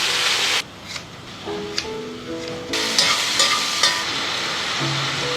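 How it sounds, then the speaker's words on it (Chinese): Beef rib strips marinated in scallion sauce are pan-fried in a thin layer of oil over low heat, giving a steady close sizzle with faint tonal sounds in the background. "锅中薄油，全成小火，煎至底部微焦后翻面"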